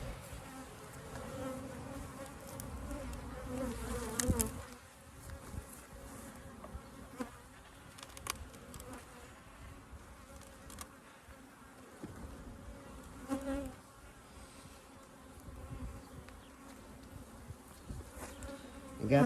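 Honey bees buzz steadily around an open hive during an inspection of a walk-away split, the dense hum continuous and close throughout, with a few louder swells and scrapes as frames and boxes are handled.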